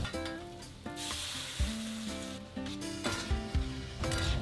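Sauce hits a hot pan for sweet and sour pork with onions, peppers and garlic, giving a bursting sizzle that keeps hissing with stirring, close and fairly quiet beneath background music.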